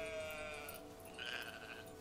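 Sheep in the video game Farewell North give two soft, wavering bleats, one after the other, faint and alone over a quiet background.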